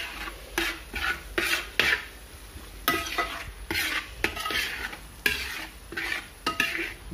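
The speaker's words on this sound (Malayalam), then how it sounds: "നമ്മൾ ഇച്ചിരി തേങ്ങാക്കൊത്ത് വഴറ്റുന്നുണ്ട്, അതുകൂടെ ഇതിനകത്ത് ചേർക്കും." Coconut pieces being sautéed in a pan for a pork offal fry, with repeated scraping and stirring strokes of a metal utensil against the pan over a soft sizzle, close and steady with no talking.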